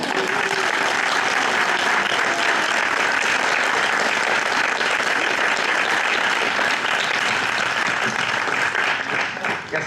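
An audience at a school district candidate forum claps steadily and fairly loudly for several seconds, a dense even applause that tapers slightly at the end.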